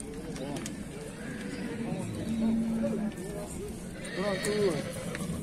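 Horses whinny at a livestock market in Talas, Kyrgyzstan, where horses for kok-boru are on sale; loud, wavering neighs rise around the middle and again near the end, over a crowded hubbub of voices and a steady low din.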